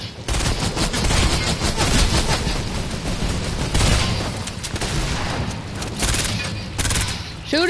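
Rapid gunfire rattles through a Fortnite match, dense bursts of automatic shots and impacts packed almost continuously, loud and close, with a brief pause near the end.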